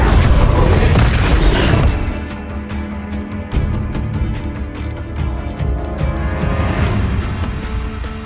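The Incendio fire spell in Hogwarts Legacy bursts out as a loud, roaring boom that tails off into a sustained crackling rumble, with battle noise carrying on underneath.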